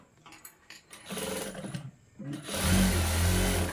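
A sewing machine runs a double line of stitching on a blouse front. Softer handling and scattered noises come first, then a loud, continuous close-up machine drone through the final second or so.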